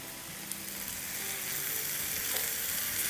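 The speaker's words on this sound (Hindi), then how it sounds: "थोड़ी देर इस तरह से हम भूनते हैं। अगेन फैला देंगे। प्याज़ों को हिला लेते हैं।" Onions fry with minced meat in a pan, a steady close sizzle and crackle with soft scraping as they are stirred and spread, continuous throughout.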